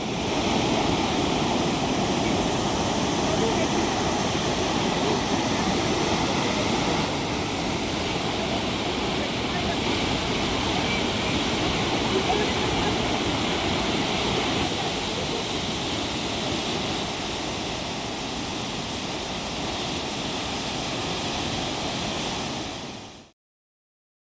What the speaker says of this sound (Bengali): জ্যাং ফলস বা নুরানাং ফলসের আরও একটি নাম হল বংবং ফলস এটি অরুণাচল প্রদেশের উচ্চতম একটি জলপ্রপাত